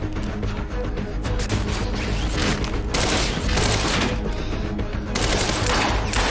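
Sustained heavy gunfire in the video game Quantum Break, a loud dense barrage of overlapping shots and booming impacts that continues without a break throughout.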